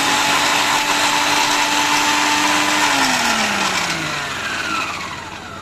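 A kitchen mixer grinder grinds mustard greens for sarson saag, a loud steady whirring motor hum that drops in pitch partway through as the load shifts, then slowly winds down.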